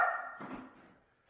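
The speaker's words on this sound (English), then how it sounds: "He's just barking." Fonzie the dog lets out a single short bark nearby, which fades quickly into quiet.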